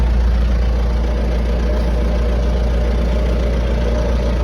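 A Massey Ferguson 3075D tractor engine idles at close range, making a steady, loud, low diesel drone that holds evenly throughout.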